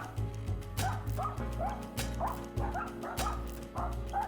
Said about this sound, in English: The dude in the cell next to mine keeps barking.